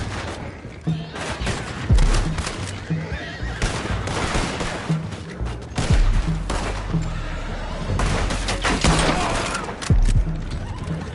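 A horse neighs repeatedly amid a busy mix of gunfire, hoofbeats and bangs, with loud, chaotic action throughout, in the video game Red Dead Redemption 2.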